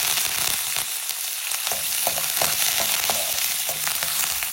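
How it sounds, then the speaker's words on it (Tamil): Cashew nuts and curry leaves fry in hot oil in a pan with a loud, steady sizzle, broken by light scraping clicks from stirring. "இதுவும் கொஞ்சம் ஃப்ரை ஆகட்டும்."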